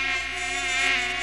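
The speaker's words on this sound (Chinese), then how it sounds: "那个蚊子太多了" A high, steady whine of mosquitoes buzzing close to the ear, continuous for a moment and then cutting off abruptly.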